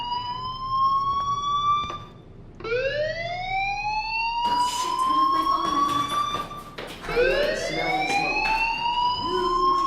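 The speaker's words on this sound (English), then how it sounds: "Hey, do you hear that fire alarm?" A fire alarm in the video game Life Is Strange wails in repeated rising sweeps, loud and continuous throughout with a brief dip near the start, with no talking over it.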